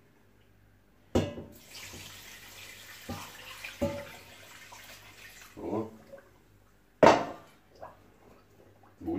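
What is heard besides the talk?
brine being poured and bubbling over kimchi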